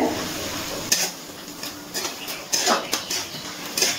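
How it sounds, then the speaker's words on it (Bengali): Ginger-garlic paste and green chilli paste being sautéed with onions in a pan for a Bengali chicken and potato curry, with a low steady sizzle and a few sharp scrapes and clinks of a spoon against the pan. "আদা রসুন বাটাটা ভালো করে কষিয়ে নিচ্ছি।"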